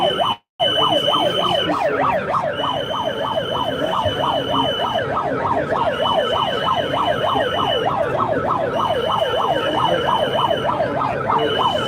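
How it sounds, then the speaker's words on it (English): Emergency vehicle siren wailing outside a DC courthouse, a loud, continuous rising-and-falling wail with a steady high tone beside it, running unbroken for several seconds after a brief cut. "somebody starts running a siren, right?"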